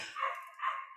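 A dog barks twice outside an open window, two clear yelping barks at a moderate distance with quiet between them.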